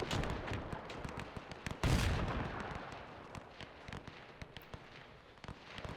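Howitzer artillery fire in the WW1 strategy game Between Empires, German Empire campaign: a dense, continuous run of sharp booms and cracks at irregular intervals, with a heavier blast near the two-second mark, all loud and close.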